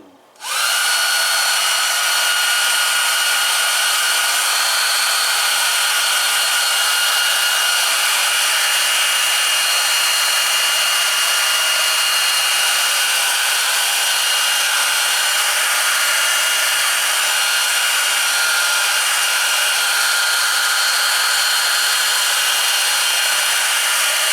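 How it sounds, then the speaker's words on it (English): A small cheap hair dryer switches on outdoors and blows with a steady, loud hiss that continues unchanged for a long stretch while heating a wet leather knife sheath. "I just got a little cheap blow dryer here."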